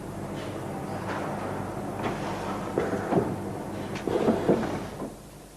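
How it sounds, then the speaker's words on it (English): An industrial pneumatic press pressing parts together, heard as a steady mechanical hum broken by several hissing bursts and clunks that cluster toward the end, with no voices. "An industrial application. This machine presses parts together."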